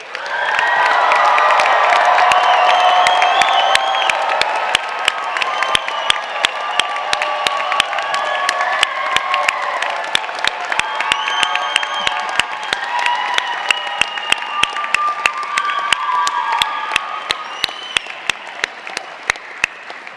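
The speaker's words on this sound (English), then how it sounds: "let's have one more round of applause and a lot of noise for our graduates." Sustained applause and cheering from a large crowd at a university architecture, planning and landscape architecture spring convocation, dense clapping with whoops and shouts, loud at first and slowly fading toward the end.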